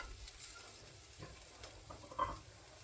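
Chicken pieces frying in a pan as they are stirred through spices, a faint low sizzle with a few soft scraping stirs and one brief clink near the end, quiet and close with no talking.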